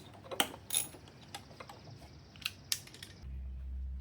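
A ratchet wrench working 12mm throttle body bolts on a 2003–2008 Toyota Corolla engine, giving a few sharp, isolated clicks and metallic ticks in a quiet space, close and fairly faint.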